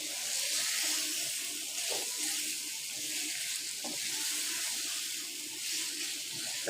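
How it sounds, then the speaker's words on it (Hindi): Mutton mince (qeema) frying in a pan gives a steady, bright sizzle with a continuous hiss, close and even throughout, with faint soft bubbling underneath. "इसे 10 मिनट तक भून लेंगे।"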